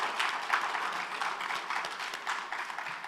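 Quiet, distant applause from an awards banquet audience, a soft wash of clapping at low level that holds steady for a few seconds.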